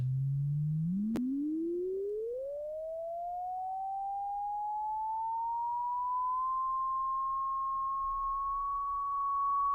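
A steady pure sine tone from an iPad music app sweeps upward from low to high, then levels off into a sustained high-pitched whistle, faint and alone.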